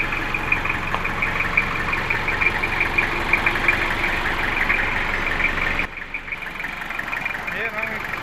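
An owner-type jeep engine idles steadily and fairly close, a continuous even rumble with a faint ticking layer, while someone talks over it briefly.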